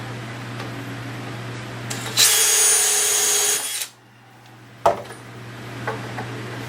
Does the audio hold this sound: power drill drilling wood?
yes